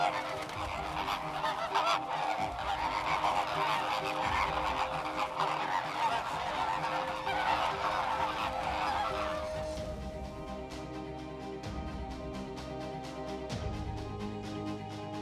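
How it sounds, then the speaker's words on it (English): Migrating geese honk in dense, overlapping calls across the Camargue marshes, a loud continuous flock chorus that thins slightly toward the end. "The migrating birds have invaded the marshes."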